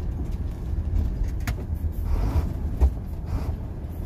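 A Sino truck with a 10-speed gearbox downshifts toward low range using double clutching; its engine gives a steady, close, low diesel rumble with a few soft mechanical knocks and no talking.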